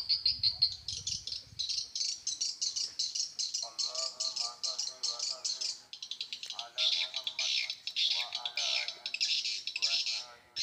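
Swiftlets chirp and click continuously inside a swiftlet house, dense repeated high calls echoing in the enclosed space, with a brief low rumble at the start.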